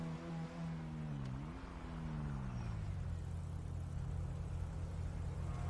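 A car engine in the video game GTA 5 hums at low volume, rising briefly in a short rev, then dropping into a steady, rumbling idle drone.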